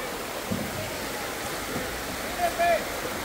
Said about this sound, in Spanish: Este es mi río, agua viva.